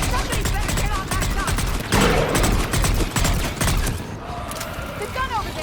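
Rapid, dense gunfire from a Mass Effect 3 battle on Thessia, loud and continuous with overlapping bursts and heavier blasts near two seconds, mixed with chaotic combat noise and faint voices.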